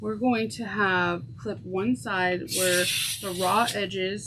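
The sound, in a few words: lighter being refilled with gas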